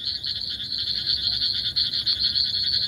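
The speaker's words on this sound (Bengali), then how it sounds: "আমরা সাধারণত বলি ঝিঝি পোকার ডাক।" At night in the dark, crickets and frogs keep up a steady, shrill, pulsing chorus that continues unbroken, moderately loud and with no voices.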